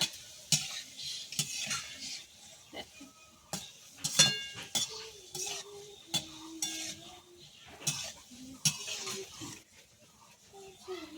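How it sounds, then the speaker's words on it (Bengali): Boondi frying in hot oil for bonde, stirred with a metal spoon that clanks and taps against the pan at irregular intervals over a soft sizzle, close up, with faint voices briefly in the background. "এবার লাল লাল করে ভেজে নেব"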